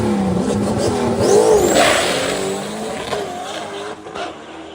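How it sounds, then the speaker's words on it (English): A budget-built drag car's engine revs loudly and continuously up close, its pitch rising and falling as the throttle is worked. "So I just did my bullshit rev up."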